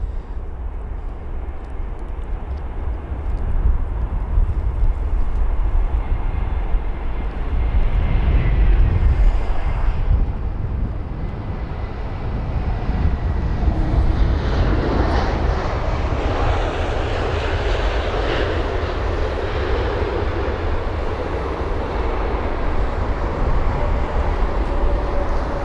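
An Emirates Airbus A380 landing at London Heathrow at sunset, a long steady jet roar that swells and holds near and loud, then eases into a broad rumbling wash without any voices.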